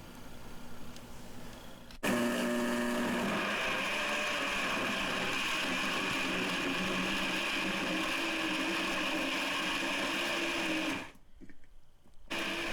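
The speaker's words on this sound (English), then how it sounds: "We have everything together in a blender and we are going to pulse this" A blender whirs steadily through a bulgogi marinade of cooking wine and sesame oil, a loud, close motor drone running for about nine seconds before cutting off, with a brief quieter moment at the start.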